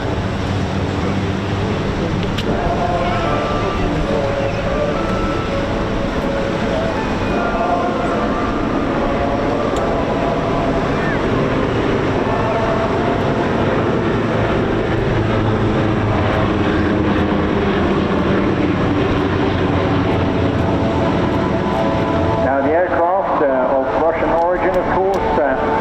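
A pair of jet aircraft splitting apart during a display at the Bournemouth Air Festival, a loud sustained roar that shifts in pitch as the jets pull away, with an announcer talking over it.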